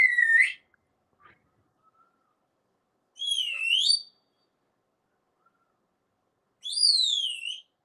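Three separate whistled phrases with sliding, warbling pitch, each about a second long, spaced apart by silent pauses.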